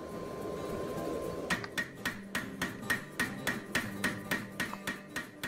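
Steady hammer blows on a hot steel bar being forged into a spear socket cone, about a dozen evenly spaced metallic strikes ringing over a low background hum, fairly close and without talk.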